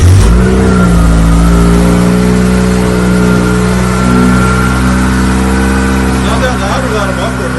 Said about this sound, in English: First start of the 4G92 on the 93 Mirage Cyborg Type RS.